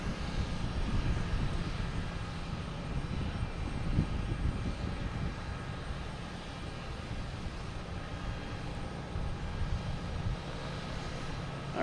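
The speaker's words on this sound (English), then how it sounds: "we have a Cape Air coming in from Nantucket. A Cessna 402." A Cape Air Cessna 402 twin-engine plane arrives at Boston Logan Airport, its steady, droning engine roar filling the air at moderate loudness with no pauses and no voices over it.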